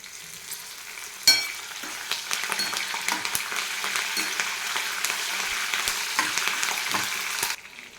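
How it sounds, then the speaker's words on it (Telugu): Curry leaves and slit green chillies crackle and sizzle in hot tempering oil for a temple-style pulihora, a steady dense frying hiss with a sharp burst as they hit the pan and occasional stirring clinks, no voices. "అవి వేసుకొని ఫ్రై చేసుకోవాలి అలాగే మరొక రెండు రెమ్మలు కరివేపాకును కూడా వేసుకోండి"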